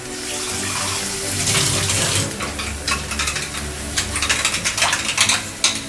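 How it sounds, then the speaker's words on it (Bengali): Water poured from a container into a cooking pan while making egg lababdar, a splashing, bubbling pour running for several seconds with a steady low hum beneath and scattered clinks toward the end. "এই জলটা অ্যাড করছি।"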